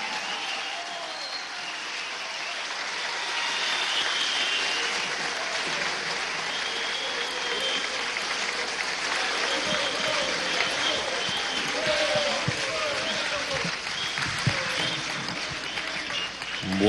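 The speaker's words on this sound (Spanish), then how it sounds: "Y ahora recibamos con fuerte aplauso al presidente de la República Bolivariana de Venezuela, Nicolás Maduro Moros." A theatre audience at a Havana commemorative event applauds the arrival of Venezuela's president, a long sustained wave of crowd clapping and cheering that fills the hall, swelling slightly midway and continuing for over fifteen seconds.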